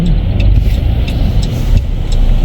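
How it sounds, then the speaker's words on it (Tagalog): Steady road traffic with many cars, a constant loud engine and tyre rumble with a few vehicles passing close, heard on a city street in Edmonton, Canada. "Ang daming sasakyan o giliw."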